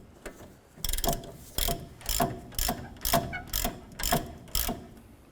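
Ratchet tightening a strut mount bolt on a 2008-2012 Honda Accord: about nine quick, crisp clicking bursts in an even rhythm, close and clear, with no talk.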